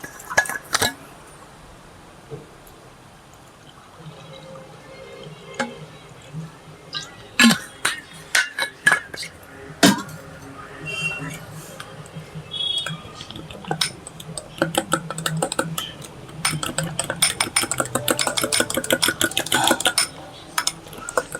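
Whey protein powder mixed in a plastic shaker, starting with sparse knocks and clinks and building to rapid, rhythmic rattling as it is shaken hard, close and fairly loud, with no voice over it.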